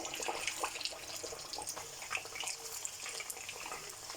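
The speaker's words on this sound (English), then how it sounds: "So you need to fry them for between 2 to 3 minutes" Chicken kababs frying in hot oil, a steady crackling hiss with fine bubbling pops running continuously at moderate level, close by and without talk.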